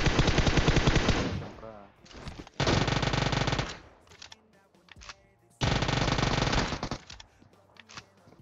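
Bursts of automatic fire from an UZI submachine gun in PUBG Mobile, loud and close, coming in several long rapid rattling volleys separated by short pauses and scattered single shots.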